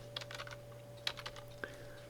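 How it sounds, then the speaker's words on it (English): Short bursts of keystrokes on a computer keyboard, a few quick taps in two small clusters and a last single press, faint and close against a steady electrical hum, with no talk. "Let's go ahead and type in Shankland"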